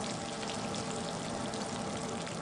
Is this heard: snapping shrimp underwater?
yes